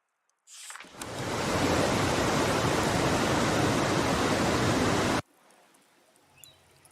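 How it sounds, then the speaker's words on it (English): Waterfall in the game A Letter to the Future, heard as a loud, steady broadband rush of falling water that starts abruptly, holds for about four seconds and cuts off sharply, leaving faint background sound. "These waterfalls were in the backyard of an old artist I met."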